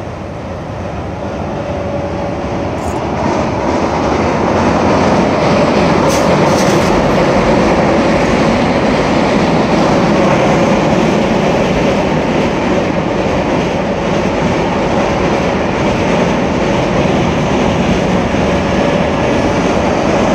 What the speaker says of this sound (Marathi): train train train I